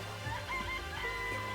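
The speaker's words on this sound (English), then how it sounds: "It's a chicken." Chickens clucking in the video game Danganronpa, a few short clucks rising above a steady bed of game ambience and music.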